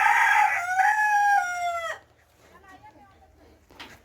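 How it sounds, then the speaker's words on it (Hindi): A rooster crows loudly once, a long drawn-out call, followed by a few quieter clucks and faint sounds from desi chickens in a family park in Kashmir. "ये रहा जानवर देसी मुर्गियाँ,"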